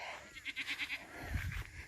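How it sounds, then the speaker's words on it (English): A goat lets out a quavering, pulsing bleat, followed by a lower rustle and thump nearby; close and moderately loud, with no talking. "I'm going to go milk these goats."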